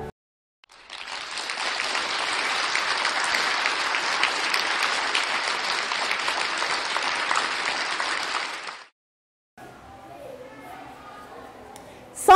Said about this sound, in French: je vous demande d'applaudir chaudement l'École normale d'instituteurs de